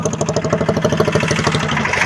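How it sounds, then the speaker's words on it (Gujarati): Loud, close tractor diesel engine chugging at idle with a fast, even knocking rhythm, running steadily throughout. "એક ટ્રેક્ટર છે જો બે ટ્રેક્ટર છે"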